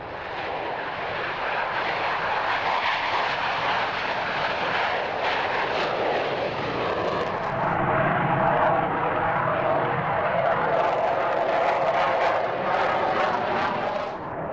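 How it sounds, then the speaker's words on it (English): A de Havilland Sea Vixen jet fighter roars past at an air show, a loud, broad continuous rush of engine noise that swells and shifts in tone as it passes. "The Sea Vixen was the last in the line of classic de Havilland fighters."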